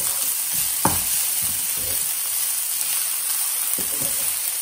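Zucchini sautés in a pan over medium heat with a constant frying sizzle, broken by several scraping stirs of a utensil against the pan, close and fairly loud.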